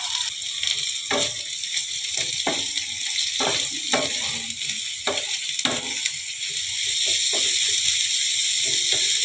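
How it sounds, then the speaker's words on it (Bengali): Chopped onions and green chilli sizzle in hot oil for an onion-poppy-seed dish, a steady close frying hiss that swells louder toward the end, broken by soft scraping stir strokes. "আমি এবারে কুচনো পেঁয়াজগুলো দিয়ে দিচ্ছি।"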